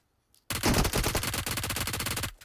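Gunfire in the mobile battle royale game PUBG Mobile, a sudden long burst of rapid automatic shots, loud and close, ending abruptly after about two seconds.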